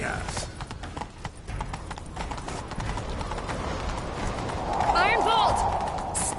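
Horse hooves galloping in a PS4 video game, a fast rhythmic clip-clop running through the clip amid game sounds, with a brief whinny-like sound near the end.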